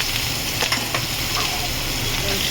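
Cumin seeds and green chilli paste stir-fried in hot oil in a pan, a steady close sizzle running throughout with a few soft scrapes of stirring.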